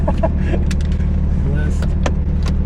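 A heavily modified 800+ horsepower BMW 340i running as it pulls up, a steady low engine hum close by with some brief clicks and voices over it.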